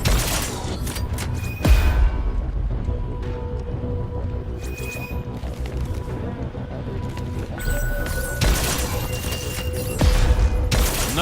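Bursts of gunfire and grenade explosions in the video game Crackdown 3 crash through a dense, continuous battle din, with loud booms near the start and end.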